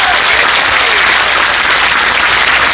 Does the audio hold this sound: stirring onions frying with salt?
no